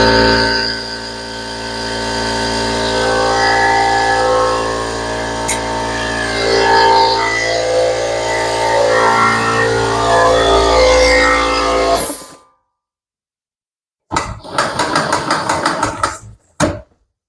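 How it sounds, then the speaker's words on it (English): Air compressor running steadily while pressurising to about 60 psi, a loud continuous mechanical drone that cuts out abruptly, followed by silence and then a short burst of clattery noise. "Compressor may kick on to make this a little loud."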